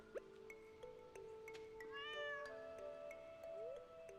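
A farm pet cat named Luna in a farming video game gives a single clear, drawn-out meow, faint and alone amid soft game tones and chimes.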